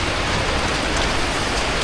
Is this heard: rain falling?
yes